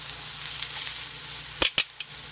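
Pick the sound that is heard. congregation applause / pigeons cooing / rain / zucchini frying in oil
zucchini frying in oil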